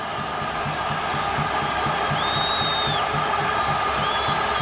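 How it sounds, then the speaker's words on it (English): A large, rain-soaked football crowd in Tallinn roars steadily through a qualifier against Italy, a dense, continuous wash of cheering with no break or single standout voice. "to the delight of the wet but very happy crowd"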